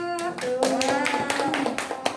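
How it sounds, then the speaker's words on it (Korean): Children at a church youth service clap together in a brief burst of hand claps, with harmonic singing or sustained voices running underneath throughout. "박수."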